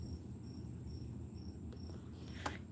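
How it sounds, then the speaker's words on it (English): Crickets chirp at night in regular, evenly spaced pulses over a quiet, low background, faint and steady, with a brief soft knock near the end. "We're out here with the crickets and the bunny wabbits"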